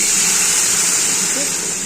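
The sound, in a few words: hot water poured into frying stalks in a pan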